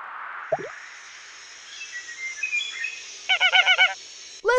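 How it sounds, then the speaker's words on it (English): A flamingo calls in the educational video game Monkey Preschool Animals, a short burst of rapid, honking squawks repeated several times, loud and close, with softer chirps before it. "Flamingo."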